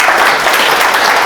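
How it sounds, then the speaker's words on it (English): A live audience at an HR event on happiness gives a steady, full round of applause, dense clapping from many hands throughout with no gaps. "Can we extend that round of applause and recognition and appreciation to Lisa and to Steve"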